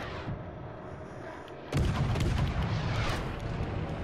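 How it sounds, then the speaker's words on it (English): Rumbling barrage of naval gunfire striking and bursting around a warship in World of Warships: Legends, a steady low roar that jumps sharply louder partway through, with sharp crackling impacts layered over the din. "Ooh, I'm getting shot at from both angles."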